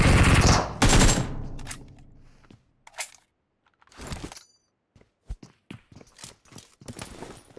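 Gunfire in the mobile battle-royale game PUBG Mobile, a loud opening burst of automatic shots followed by scattered single cracks and short bursts separated by near silence.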